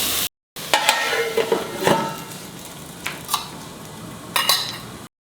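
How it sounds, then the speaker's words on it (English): Dry shrimp curry frying in a pan, with intermittent scraping and stirring of the spatula against the pan over a low sizzle, moderately close, brief gaps of silence. "And see that you fry it nicely. And leave it to cook."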